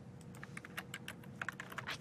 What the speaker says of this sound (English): I keep typing my last name as the message that I want to send.